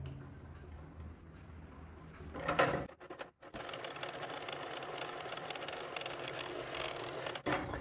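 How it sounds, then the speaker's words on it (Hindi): A household sewing machine stitching at speed after a fix for thread breakage, a steady fast mechanical whirr and ticking that starts mid-clip after a brief pause and runs on alone. "अब मशीन को चालू करता हूं और आप चला के भी देखेंगे तो बहुत अच्छी चलेगी"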